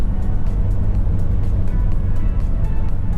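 Steady engine drone and road noise from inside a car driving toward Astana on a Kazakhstan highway, a loud continuous low rumble with no breaks.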